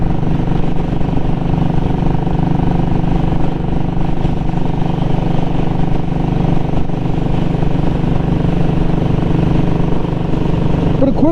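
A Royal Enfield Classic 500 motorcycle is ridden in cold weather, its engine producing a steady, loud, low thumping drone that holds constant throughout with wind noise.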